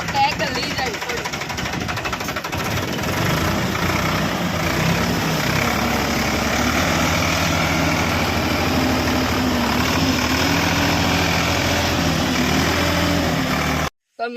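A tractor engine runs steadily in a farm field, a continuous low rumbling drone that holds for the whole stretch, close and fairly loud, with a voice talking over it.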